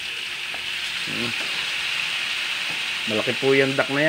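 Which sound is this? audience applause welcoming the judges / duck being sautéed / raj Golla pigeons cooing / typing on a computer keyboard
duck being sautéed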